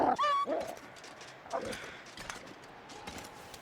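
A dog in the game Stalker gives a short high whimper followed by a few scattered yips and barks, fairly faint and somewhat distant amid other in-game noise.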